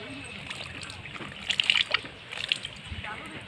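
Wet laundry wrung out by hand, with water splashing and dribbling out in a short cluster of faint splashes and one later splash over a quiet background.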